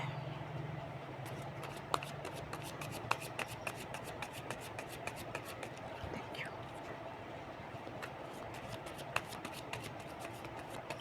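Tarot cards being shuffled and drawn from a deck, a steady papery riffle and rustle with scattered sharp card snaps, close and fairly quiet over a low background hum.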